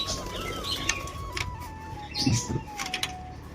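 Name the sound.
pigeons cooing and flapping wings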